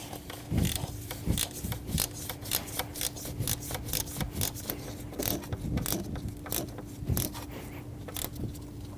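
A ratchet clicks in quick bursts while snugging down the bolts of a radiator fan assembly going into plastic on a 2012-2022 Volkswagen Passat, close-up, repeated short clicking runs with handling noise between.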